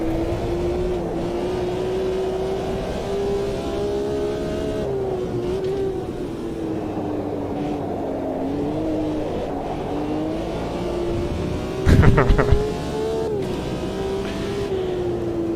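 A BMW M1 race car engine in Automobilista 2, a steady droning in-car engine note rising and falling with throttle and gear changes, with a brief burst of rougher noise partway through.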